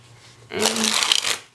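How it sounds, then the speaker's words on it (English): A Pluma playing card deck gets a single riffle shuffle, a close, brisk fluttering burst of cards lasting about a second between quiet moments. "Here's a look at a Ripple Shuffle."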